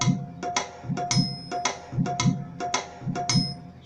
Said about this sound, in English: This is the pattern for the Kerwa Laggi in the song.